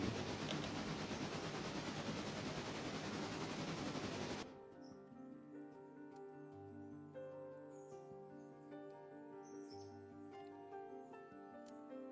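Train cars rolling in the Railroader video game. A loud broadband rushing roar cuts off abruptly, leaving quieter low rumbling tones that rise and fall in steady segments.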